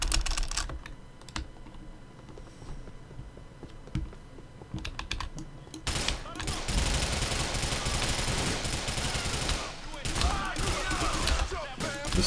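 Keyboard clatter gives way to dense, loud gunfire in Grand Theft Auto IV, rapid shots rattling on for several seconds with brief gaps. Steady typing runs underneath.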